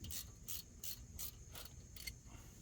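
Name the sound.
socket ratchet snugging down 8mm bolt on Ford F150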